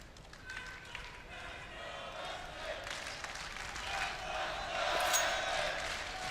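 A live arena crowd at the ELEAGUE Major 2018 Counter-Strike quarterfinal between SK and Fnatic, cheering and roaring in a broad wash that swells toward the end beneath continuous commentator speech.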